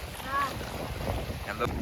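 Wind buffets the microphone on a small fishing boat out on choppy water, a rough continuous rush with faint sloshing of waves underneath.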